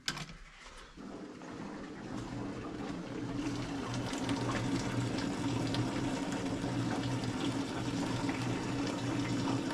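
Gasoline gushes and splashes steadily out of the fuel tank of a 1955 Ford F100 pickup, a continuous watery pour that swells after the first second and holds at a strong, close level, with no talking.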